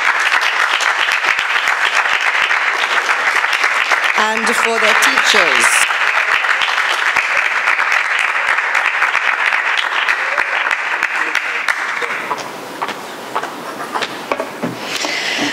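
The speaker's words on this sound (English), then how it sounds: "A big round of applause for the boys." Audience at the Trinidad & Tobago Biennial Music Festival in the Naparima Bowl gives loud, sustained applause for a boys' class and their teachers. The clapping runs strongly for about twelve seconds before thinning out, with a voice speaking over it.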